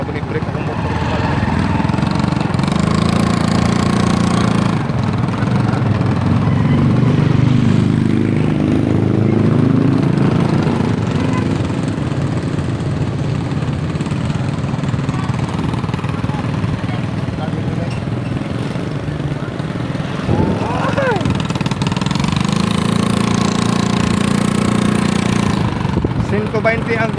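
A motorcycle engine runs close and loud throughout, a steady low rumble with a brief revving rise partway through, while someone talks over it.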